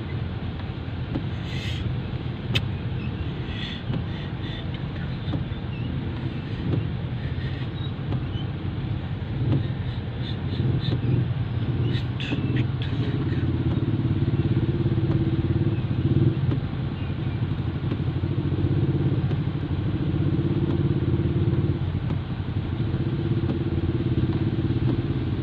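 Steady road traffic on a rainy midday, with motorcycles and cars passing in a continuous rumbling drone that swells slightly in the second half, broad and unbroken with no clear individual pass-bys.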